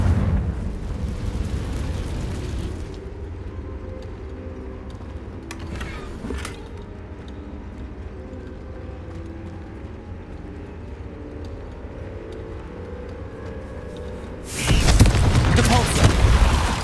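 A Confringo fire spell explodes in Hogwarts Legacy, a loud booming burst near the end that follows a long stretch of low rumbling game ambience with some faint crackles.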